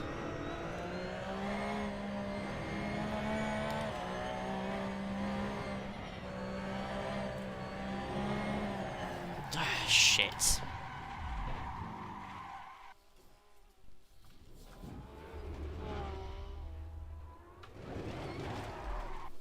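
Porsche GT3 race car in a racing video game, its engine droning steadily before a sharp tire skid squeals out, then the car revs and accelerates again, with a brief curse spoken over it.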